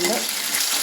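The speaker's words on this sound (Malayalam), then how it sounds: "കടുക് വറക്കുന്നത് മൂത്ത് കഴിയുമ്പോഴത്തേക്ക് അതിലേക്ക് കറിവേപ്പിലൊക്കെ ചാടിപ്പോന്നു" Mustard seeds and curry leaves, with dried red chillies, sizzle and crackle in hot oil in a home kitchen. The frying is loud and steady, with no talk.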